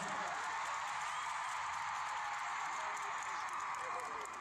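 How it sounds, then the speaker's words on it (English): Crowd at a 2022 concert in Busan, a dense, continuous roar of cheering and screaming from a large audience, steady and loud throughout with no pauses. "The crowd was wild."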